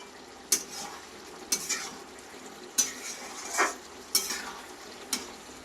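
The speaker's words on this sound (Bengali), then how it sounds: "একটু নাড়াচাড়া করে নেবো ভালোভাবে" Spoon scraping and stirring thick Mughlai curry in a pot, a series of sharp clinks and scrapes roughly once a second over a faint sizzle, close and moderately loud with no voices.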